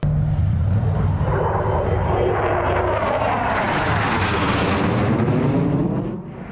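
A voice imitates an F-16 fighter jet flyover, a loud continuous roaring whoosh that holds steady for several seconds and then fades at the end.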